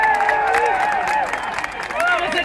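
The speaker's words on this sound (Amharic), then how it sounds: "ሞቅ ያለ ጭብጨባ ለነአምን" Applause for a speaker at an Ethiopian community rally in Washington, DC: steady crowd clapping throughout, with voices holding wavering high tones above it.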